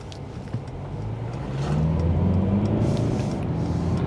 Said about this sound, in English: let's put it in Sport Plus and let's see how quick this car can get off the line